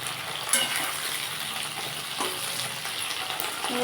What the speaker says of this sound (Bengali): আমার ভেন্ডিটা ভাজা হয়ে গেছে বেশি ভাজবো না হালকা করেই ভাজবো